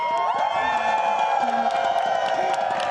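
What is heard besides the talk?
UK cheering section crowd cheering at Overwatch World Cup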